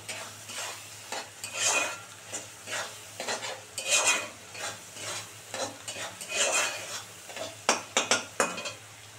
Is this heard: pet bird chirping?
no